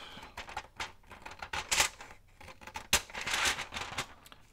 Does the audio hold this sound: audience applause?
no